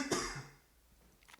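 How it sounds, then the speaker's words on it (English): A single dry cough from a man, short and close, fading into quiet room tone. "That was a dry cough, actually."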